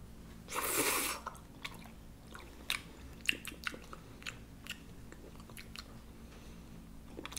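Sticky, squishy chewing of a large pizza-shaped gummy jelly, with one soft rustle near the start and then a string of close, moist bites and smacks at an irregular pace, quiet with no talking.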